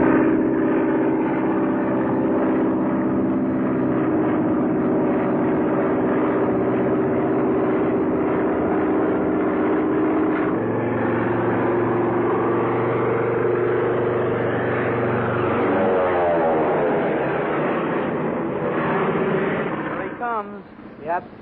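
A 1938-era airplane engine drones steadily as the plane flies in, a loud continuous low hum that shifts pitch partway through and rises into a changing whine near the end, with no speech over it.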